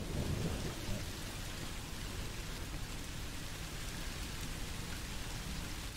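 Steady, dense rain pours down with low rolling thunder in a horror video game, Song of Horror, a constant wash of noise with no voices.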